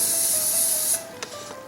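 A steady hiss of cooking spray coating a baking pan for a gluten-free pizza, a close, continuous spray lasting about a second before it cuts off, followed by a few faint clicks and taps.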